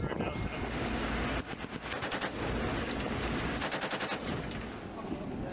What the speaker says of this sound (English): The soldier fired the 50 caliber machine gun hundreds of times with precision to hit the target.